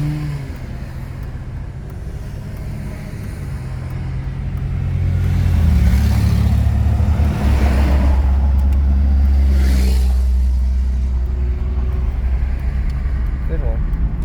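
Big red truck passes on the road outside a moving car, a deep rumble swelling up and then fading away over the car's steady cabin drone, loud and close.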